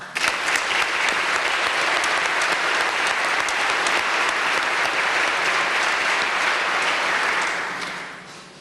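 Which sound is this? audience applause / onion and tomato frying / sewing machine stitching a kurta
audience applause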